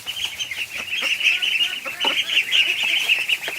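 A flock of ducks quacks and chatters continuously inside a barn, a dense, close chorus of overlapping calls.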